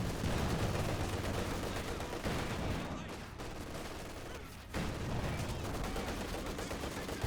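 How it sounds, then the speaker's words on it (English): Sustained battlefield gunfire in the Company of Heroes 2 real-time strategy game, a dense, steady crackle of rifles and machine guns with a brief dip midway before resuming. "Grenadiers taking some fire."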